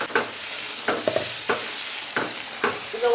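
Masala for a fish curry fries in a pan, a soft steady sizzle punctuated by four or five brief scraping stirs at roughly even intervals, close and fairly quiet.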